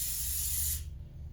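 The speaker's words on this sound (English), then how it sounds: "spraying the accelerator on the bottom of that plywood" A short, close hiss of CA glue accelerator sprayed onto the underside of plywood for a crosscut sled. It lasts under a second and then cuts off into quiet.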